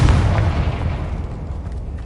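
A Confringo fire spell blasts in Hogwarts Legacy, a loud, deep booming explosion that rumbles and slowly fades over a couple of seconds.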